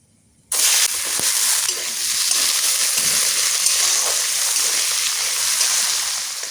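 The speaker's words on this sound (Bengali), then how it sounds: "তেলের মধ্যে আমি কটা জিরে দিয়ে দেবো দারচিনি আর এলাচ দিয়ে দেবো তারপরে এই গাজরটা আমি দিয়ে দেবো" Cumin, cinnamon, cardamom and carrots hit hot oil in a pan for an egg curry, breaking into a loud, steady sizzle after a brief quiet start, close and continuous with no voices.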